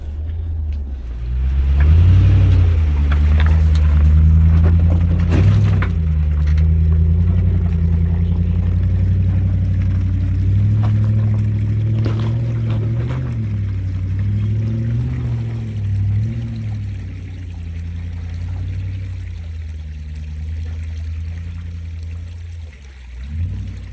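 A 4WD car labours up a steep, rough bush track and through a creek crossing, its engine rumbling steadily and loudly near the microphone with faint water and gravel noise underneath.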